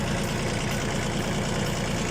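A tractor engine runs steadily while being driven during hay-bale unloading, giving a loud, continuous, rough rumble close by with no talk over it.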